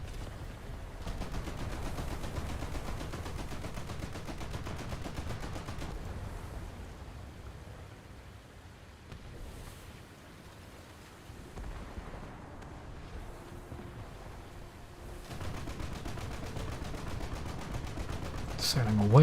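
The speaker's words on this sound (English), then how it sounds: "I'm actually kind of tempted to shoot at a lit shield." Naval video game ship guns firing at a light cruiser, a low rumbling barrage of booms and distant detonations spread across the stretch, fading in the middle and swelling again toward the end.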